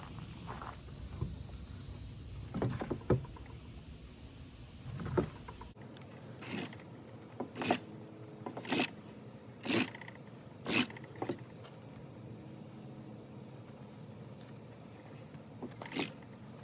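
A thick jute twine fire roll is rolled by hand against a surface, giving repeated short, close rubbing and scraping strokes in an irregular rhythm, separated by quiet gaps.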